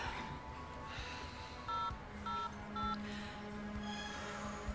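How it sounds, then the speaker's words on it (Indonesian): A telephone number is dialed with a few short electronic keypad tones in steady succession, faint beneath a dim background hum. "Ya, sebaiknya saya telepon saja Bram."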